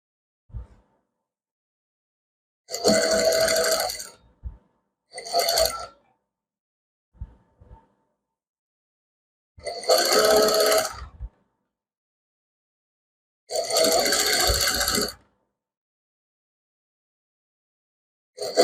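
A sewing machine stitches padding into a blouse in several short, loud runs, each lasting one or two seconds, with near silence between them.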